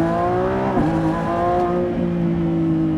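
A Lamborghini Revuelto's V12 hybrid engine sounds loud and close, a sustained harmonic roar that dips and shifts pitch partway through, as if changing gear.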